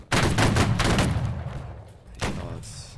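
A musket volley from a Civil War reenactment line battle crashes out loud and close, a ragged burst of shots that rolls and decays, followed by a second, fainter report. A man calls out commands around the firing.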